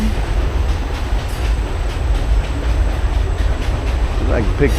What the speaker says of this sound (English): Roll on, train.